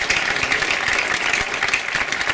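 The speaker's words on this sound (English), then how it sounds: "A round of applause for Dr. Bossert." An audience applauds at a high school graduation ceremony, a dense, even wash of clapping from many hands that stays loud throughout.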